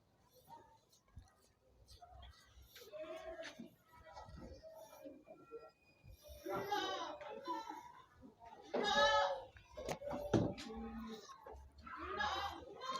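Goats raised for contests bleat in short bursts now and then, close by on a farm, while someone speaks between and over the calls.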